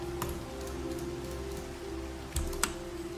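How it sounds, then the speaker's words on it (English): Steady rain falls in the Minecraft video game, a soft continuous patter with a low tonal hum beneath and a few sharp clicks, no voices. "Should I turn the rain off or no?"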